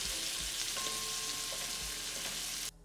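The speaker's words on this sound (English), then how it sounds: "Then my onions and saute that for about a minute." Onions sautéing in melted butter for a shepherd's pie give a steady, close sizzle with soft crackle and a faint tone, cutting off abruptly near the end.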